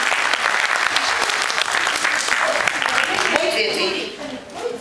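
A group of children clapping together during a playful kindergarten song session, a dense, steady patter of many small hands sustained throughout and tapering off slightly at the end.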